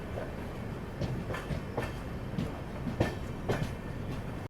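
The Sairang Rajdhani Express, hauled by a WAG9 locomotive, runs steadily on the rails at night, with a soft rhythmic clickety-clack of wheels over joints under a constant low rumble.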